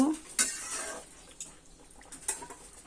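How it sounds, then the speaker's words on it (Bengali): A spoon scrapes and clinks against a cooking pot as fried lentil fritters are mixed into a thick curry with water spinach, producing a few soft knocks and stirring sounds with faint background noise. "বড়াগুলো দিয়ে আবার ঝোলের সঙ্গে ভালোভাবে মিশিয়ে নিব।"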